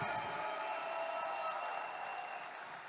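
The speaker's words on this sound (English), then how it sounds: "Can we give our Reway leaders a round of applause today?" A seated audience at a class gives a soft, distant round of applause, a steady wash of clapping that fades slightly near the end.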